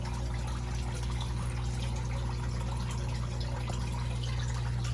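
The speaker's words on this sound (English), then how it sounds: "what we're trying to do is keep these pipes from freezing too. And one of the other things we do to do that is to keep water circulating." Water circulates through the pipes of an aquaponics system kept running to stop freezing, making a continuous trickling, gurgling flow over a steady low pump hum, with no voices.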